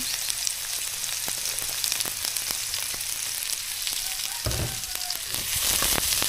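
Tuna belly stir-fries in a hot pan, giving a steady, fairly soft sizzle with scattered crackles and pops. Near the end there is a brief clatter of stirring, and no one speaks.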